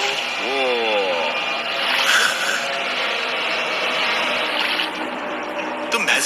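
Water sloshing and splashing as a person wades through water inside an Egyptian pyramid, a steady broadband wash running throughout with a brief louder surge near the end, close by.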